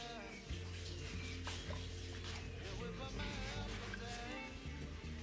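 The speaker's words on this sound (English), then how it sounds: "I'm going to put enough oil to fry my veggies." Vegetables fry in hot oil in a pan, a faint steady sizzle with occasional stirring scrapes and a low hum underneath.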